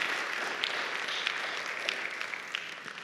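A church congregation applauds during a sermon, a fairly faint, steady wash of clapping from many hands spread through the room, with no talking over it.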